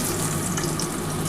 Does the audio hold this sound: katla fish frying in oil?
yes